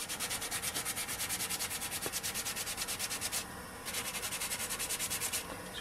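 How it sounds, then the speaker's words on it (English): Sandpaper rubbed steadily over a handmade wooden six-hole Native American flute, a close, rhythmic back-and-forth scratching in even strokes with a short pause partway through, no talking. "Do a little bit of sanding here."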